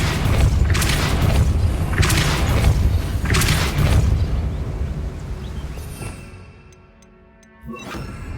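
Several heavy booming blasts of the Depulso spell cast in Hogwarts Legacy, about four forceful bursts in quick rhythm, loud and near, then fading into quieter ringing tones.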